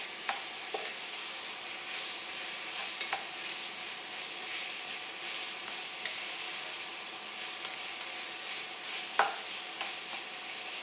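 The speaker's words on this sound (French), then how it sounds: "Et je vais faire suer tous ces légumes" Onions, leeks and fennel sweat gently in a pan without browning, giving a soft, steady low sizzle with occasional stirring scrapes and clicks throughout, no voices.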